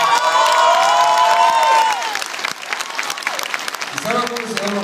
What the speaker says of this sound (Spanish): un aplauso para Eric, por favor